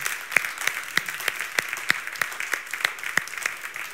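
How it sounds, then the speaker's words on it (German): An audience at a Fujifilm demo stage at the Photokina 2018 trade fair claps in a sparse, fairly steady rhythm, with distinct individual claps standing out over faint background murmur at moderate distance. "dafür hat es einen tollen Applaus verdient"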